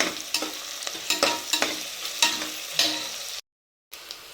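Onions for chicken biryani sauté in a pan, a steady close sizzle broken by repeated scraping stir strokes and a brief pause near the end; no talking.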